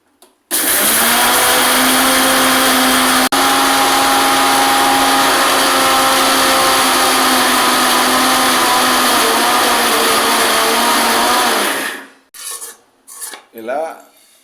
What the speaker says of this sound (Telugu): తర్వాత మిక్సీలో ఆడించుకోవాలి